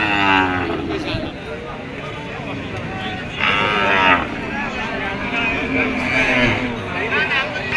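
Cows moo loudly and close by at a crowded rural cattle market in Ratankandi, Kazipur, Sirajganj, with long drawn-out calls rising over the chatter of people talking nearby.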